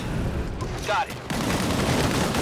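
Sustained gunfire in the video game Disintegration, a dense, loud rattle of shots that briefly drops out before resuming, with a voice heard over the firing.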